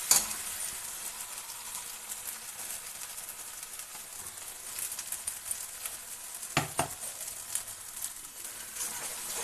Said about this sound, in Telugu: ఇప్పుడు మనం రెడీ చేసుకున్న మసాలాను వేసుకోవాలి. ఈ మసాలా అంతా మనకు పచ్చి వాసన పోయినంత వరకు వేగనివ్వాలి.